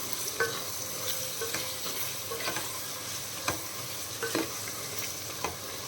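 Soya biryani frying in a pan, a continuous soft sizzle broken by occasional scraping stirs and light taps of the spoon, close and fairly quiet, without any speech.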